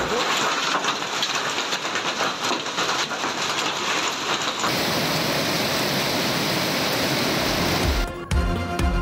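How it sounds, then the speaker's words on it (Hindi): Heavy rain and hail pour down in Khyber Pakhtunkhwa, around Peshawar and Abbottabad, a dense steady roar of falling water drumming on surfaces that runs unbroken for several seconds before shifting near the end. "पेशावर, एबटाबाद समेत खैबर पख्तूनख्वा के मुख्तलिफ इलाकों में बारिश और यालाबारी।"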